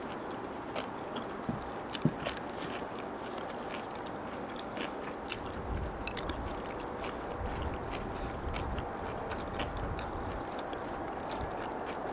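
Close-up biting and chewing of boiled pork belly (suyuk) with freshly made kimchi, soft wet mastication with a few sharper bites, quiet and continuous over a steady background hiss.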